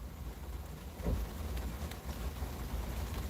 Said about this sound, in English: Only in Alabama and Florida is it completely sunny and totally raining.